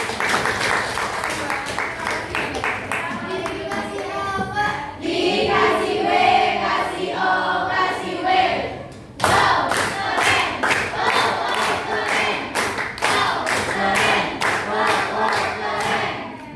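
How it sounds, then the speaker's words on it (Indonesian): An audience in a health promotion class presentation bursts into sustained applause, dense clapping and crowd noise filling the whole stretch with one brief dip near the middle, steady and fairly loud throughout. "Oke, beri tepuk tangan."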